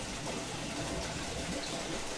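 Water from an overflowing aquarium tank with a waterfall feature spills steadily onto the floor, a continuous close, moderately quiet rushing and trickling wash with no pauses.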